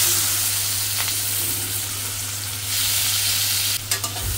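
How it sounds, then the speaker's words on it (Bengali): Chopped onions and cumin seeds fry in a pan with a steady, close sizzling hiss that runs throughout, broken only by a few brief clatters near the end. "অনেক পেঁয়াজ কুচিটি দিয়ে দেবো"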